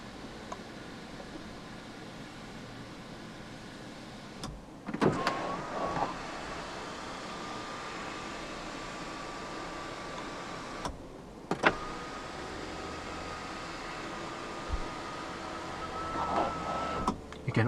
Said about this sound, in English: Fully automatic panoramic sunroof control right here. The shade is powered as well.